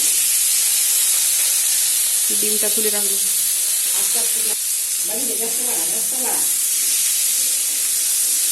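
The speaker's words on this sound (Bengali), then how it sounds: "তারপর আমরা আলু ফুলকপি ভেজে নেব।" Potatoes and cauliflower fry in hot oil for an egg curry, giving a loud, steady sizzle and hiss throughout, with a few spoken words and stirring sounds over it.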